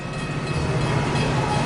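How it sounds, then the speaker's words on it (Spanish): A passenger train running, heard as a steady, dense rumble and rattle close by, loud and continuous with no pauses or voices. "El combustible de emergencia vuelve a poner los trenes de pasajeros en marcha."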